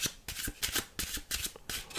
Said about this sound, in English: Let's do a little shuffle.